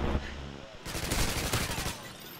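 Rapid gunfire in Modern Warfare 2, a dense crackling burst of shots that breaks in suddenly after a moment of quieter game noise and continues in a loud, busy stream.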